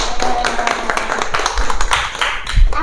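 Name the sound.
class applause for a good question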